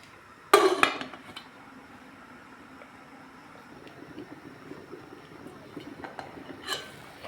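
A lid set onto a pot of mackerel and potato-top soup lands with one sharp metallic clank and a short rattle, followed by a quiet, low simmering hum with a faint clink near the end.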